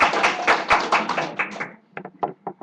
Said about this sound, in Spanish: Recibámonos con un fuerte aplauso,